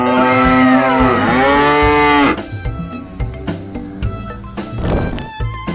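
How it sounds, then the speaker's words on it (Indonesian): A toy cow gives a loud, sustained electronic moo with wavering pitch, then shifts into a bouncy, tinny tune with rhythmic beats, close and clear throughout. "sapinya bisa bernyanyi dan bergoyang"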